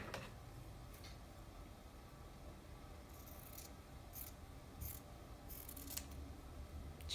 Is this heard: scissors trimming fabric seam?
yes